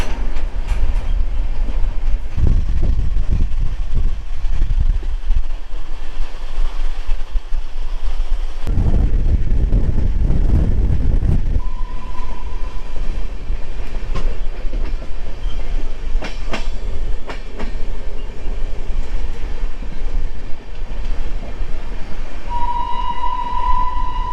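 Coalfield Express passenger train departing and running on rails between Howrah and Dhanbad, heard from aboard as a steady rumbling roll with clickety-clack wheel beats and a brief horn toward the end.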